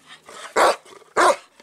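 Two loud, close dog barks, with the animal growling and yipping faintly between them, recorded outdoors on a windy, snowy day on a farm that keeps goats.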